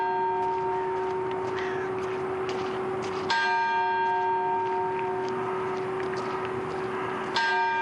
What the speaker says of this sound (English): The bells hit the alarm.